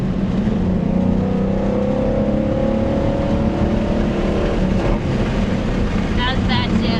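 Race car at Road Atlanta on a track session, engine droning loudly and continuously from inside the cabin, pitch shifting as it revs through a downshift into a turn, with a voice talking over it.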